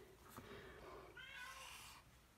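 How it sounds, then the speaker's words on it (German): A cat meows outside a door in a quiet indoor room, a faint drawn-out cry rising and falling once, distant and muffled, with low murmuring in the background. "vor der Tür miaut eine Katze"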